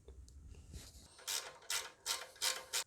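A ratchet clicks in four or five short, close bursts, working loose an alternator bracket bolt on a 1.0-litre Mitsubishi Mirage; a few faint handling knocks come before it, and nobody speaks.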